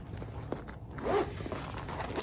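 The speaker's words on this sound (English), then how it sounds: "it has a back zipper, a big, thick, heavy pull" The big, thick, heavy pull of the back zipper on an unbranded leather fold-over bag with gold hardware is dragged once, a short close rasp over a low room hum.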